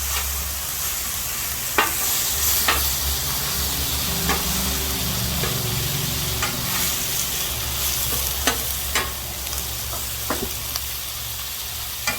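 Lemon garlic chicken sizzles steadily on a hot griddle, a continuous crackling hiss broken by sharp scraping clicks of a spatula at irregular intervals.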